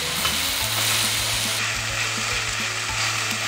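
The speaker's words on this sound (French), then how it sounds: "on rajoute nos épinards et on tourne pendant 2 minutes" Spinach is stirred into softened mushrooms and leek in a hot pan as gyoza filling, a steady loud sizzle with the faint scrape of the utensil running beneath it throughout.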